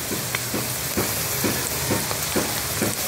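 A cabbage omelette (tortang repolyo) fries in a pan with a steady, close crackling sizzle, with soft rhythmic bursts recurring about every half second and no voices.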